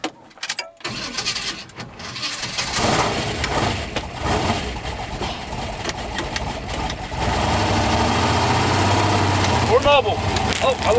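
A Chevrolet C10 truck's engine runs roughly as it limps along, a steady mid-range drone that thickens and grows louder toward the end, with scattered clunks and some talk over it.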